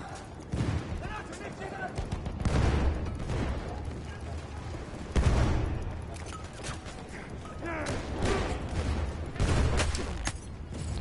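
Gunfire in the video game Battlefield 1, including revolver and pistol shots: repeated sharp shots and bursts with thuds and mechanical clatter, running throughout under nearly continuous talk.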